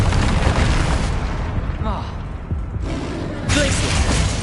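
Spell blasts from Bombarda and Confringo in the Hogwarts Legacy video game, loud booming explosions and bursts in quick succession with crackling debris, layered with continuous game action noise.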